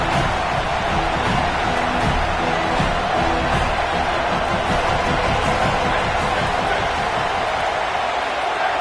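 Football stadium crowd cheering on the home defense before a big third down at a college game: a dense, steady roar of many voices filling the space, loud and continuous throughout.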